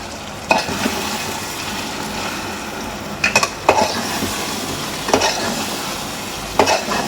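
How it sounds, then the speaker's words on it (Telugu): Chicken curry frying in a pan, stirred with a spoon that scrapes and clinks against the metal in several sharp knocks over a steady close sizzle, with no talking. "ఇప్పుడైతే చికెన్ అయితే చూసుకొని ఒకసారి అయితే మిక్స్ చేసుకుందాం"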